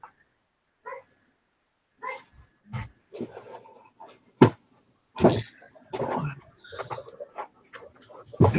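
A dog barks and whimpers in short bursts, fairly close, with scattered gaps of quiet between the sounds.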